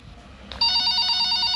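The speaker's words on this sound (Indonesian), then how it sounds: "Oh, ini kak ada yang telepon." Telephone in a horror video game set on a hospital night shift, ringing with a bright electronic trill that starts abruptly and continues steadily, loud and close with no talk over it.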